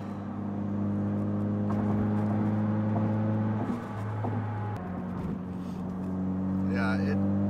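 A stock Ford Focus RS drives at a steady pace, its engine holding a constant drone that shifts pitch slightly midway, while occupants talk over the engine sound.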